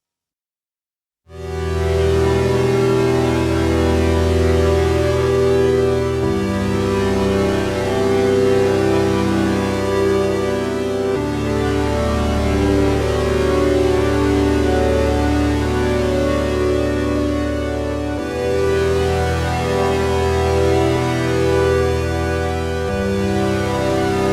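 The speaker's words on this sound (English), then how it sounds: "So I've made this FM pad here," A full-bodied FM pad from an Oberheim TEO-5 synthesizer plays sustained chords, loud and steady, shifting harmony every few seconds with rich low end and bright upper tones, with no voices over it.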